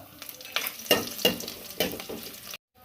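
Chopped shallots and dried red chillies sizzle in hot oil in a pan for a Kerala curry, with bursts of crackling as they are stirred, close and clear before the sound cuts off.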